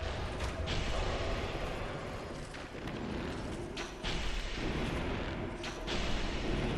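An enemy in Dark Souls 2 casts spells in repeated booming, crackling bursts over a dense, noisy game soundscape, a few heavy blasts a couple of seconds apart, with no talking.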